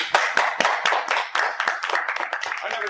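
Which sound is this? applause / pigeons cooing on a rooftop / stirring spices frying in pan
applause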